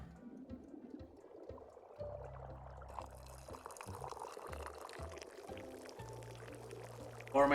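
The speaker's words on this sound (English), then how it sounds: "Pour myself a drink and I'll get to you." A drink is poured in the video game Wanderstop, a soft, steady liquid trickle running for several seconds at low level beneath quiet, faint background music.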